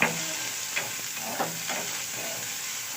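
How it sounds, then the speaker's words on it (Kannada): Grated coconut being stirred and fried in a pan until reddish for a chicken gravy, a steady close sizzle with a few scraping stirs, no talking. "ಸ್ವಲ್ಪ ಕೆಂಪಗಾಗೋಷ್ಟು ಹುರ್ಕೊಂಡು, ಕಾಯಿ ಅದು ಸ್ವಲ್ಪ ಕೆಂಪಗಾಗಬೇಕು."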